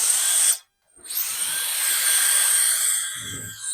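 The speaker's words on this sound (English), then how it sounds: "The next one is this little Wolf Box air blower" A small cordless Wolf Box electric air blower whirs with a high-pitched whine, cutting out briefly, then spinning back up and running steadily, close by.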